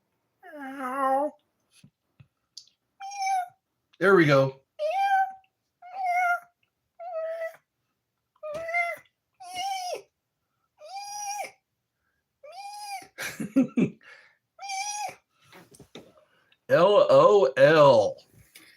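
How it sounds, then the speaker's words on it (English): A male cat in heat meows over and over, about a dozen short, close calls separated by silent gaps, ending in longer, louder yowls, while a person speaks briefly. "Sounds like a male cat in heat."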